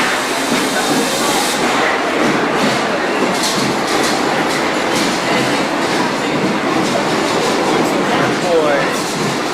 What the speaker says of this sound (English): you're taping in a subway